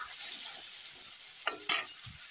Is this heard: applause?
no